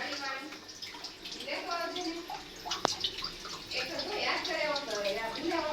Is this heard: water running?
yes